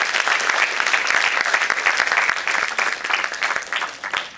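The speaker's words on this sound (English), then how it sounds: "she deserves a huge round of applause" A room of attendees at a youth forum session applauds, a dense burst of clapping that holds steady for several seconds and then thins toward the end, with no speech over it.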